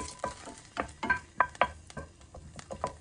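Chopped garlic drops into a hot pan for fish sarciado, giving soft sizzling and irregular stirring scrapes with a few brighter utensil clinks against the metal, close and quiet.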